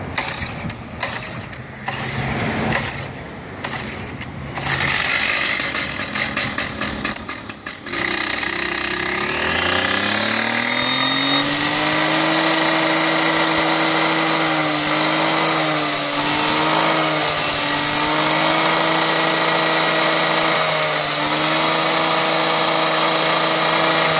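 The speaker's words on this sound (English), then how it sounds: "Today we're looking at the steel TS460 concrete cutoff saw." A Stihl TS460 concrete cutoff saw is pulled several times, coughs, then catches and runs at a loud, steady high whine close by, with small rises and dips in engine speed.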